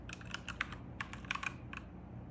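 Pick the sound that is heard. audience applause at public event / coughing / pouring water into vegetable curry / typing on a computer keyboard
typing on a computer keyboard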